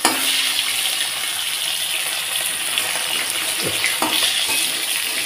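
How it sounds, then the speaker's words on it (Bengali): Koi fish sizzle steadily in hot oil in a pan, a constant bright crackling hiss close by, with a couple of soft knocks of a utensil near the end and no talking. "তো মাছগুলো দেখো কি সুন্দর ভাজা হয়ে গেছে।"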